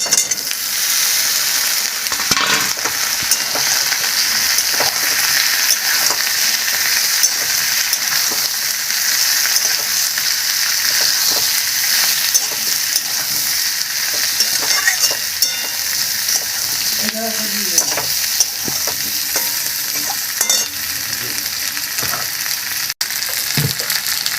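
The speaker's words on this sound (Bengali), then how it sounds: "এবার কাঁচকলা আর আলু দিয়ে দিলাম।" Green banana and potato pieces frying with onion in a pan, a loud steady sizzle and crackle throughout with occasional stirring scrapes and clinks, no talking.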